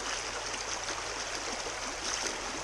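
Stream water sloshes and trickles steadily as a Gold Hog flow pan is agitated, a close, continuous watery rush with no pauses.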